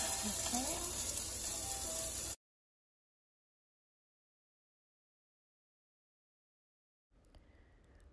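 Sausage meat, peeled from its casing, fries in its own fat in a pan over medium heat with no added oil. A steady close sizzle runs for about two seconds, cuts to silence, then returns faintly.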